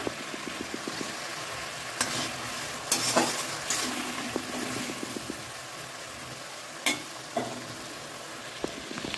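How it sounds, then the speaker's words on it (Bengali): Green peas tipped into spiced masala frying in a pan, a steady low sizzle under repeated scraping stirs with a few louder clatters of spoon against metal, no talk. "এই পর্যায়ে আমি মটরশুঁটিগুলো দিয়ে দেবো।"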